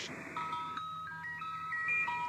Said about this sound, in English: Yeah, the Swedish Rhapsody is freaky.